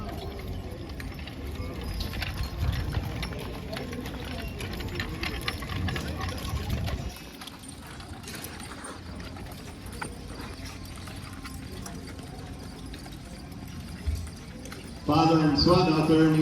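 Unhitched draft horses at a county fair farm horse show in Pike, New York, their hooves clopping in a show arena under steady loud arena noise, with a voice speaking over a loudspeaker.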